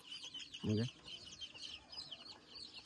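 Chickens and chicks clucking and peeping in a pen on a farm, one loud low cluck near the start over continuous high cheeping from many chicks.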